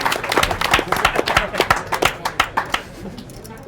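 A small crowd at a poker tournament in a casino claps briefly for a seeded player, a loose patter of individual hand claps, fairly close and uneven, tapering off after a few seconds.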